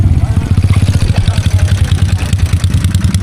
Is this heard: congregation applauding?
no